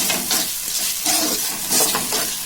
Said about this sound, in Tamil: கொஞ்சம் சீக்கிரமா தக்காளி வந்து வதங்கும்